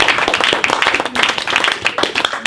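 A church congregation clapping in quick rhythmic unison, loud and close, with a faint voice underneath.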